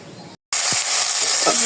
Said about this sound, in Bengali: শাকটা ভেজে নিই